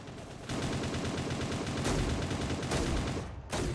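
Rapid automatic gunfire in the video game Cyber Hunter, loud and continuous in dense bursts with short breaks, no voices over it.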